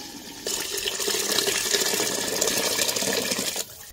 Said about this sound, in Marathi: आता ह्याच्यात गरम पाणी वतायचं, थंड पाणी वतायचं नाही